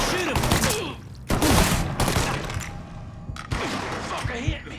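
Video game gunfire in Mafia 3, several close bursts of shots and impacts mixed with game voices and shouting.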